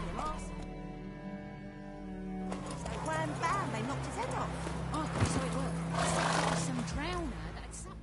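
Roach, a horse in a video game, gives a neigh and snorting whinnies over background game music, with a voice speaking alongside.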